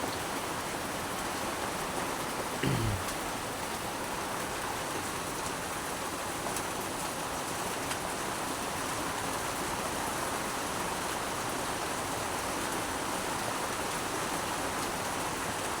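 Heavy rain pours down steadily and loudly around a fishing boat out on the water, a dense unbroken hiss that continues throughout with no voices.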